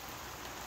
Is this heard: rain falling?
yes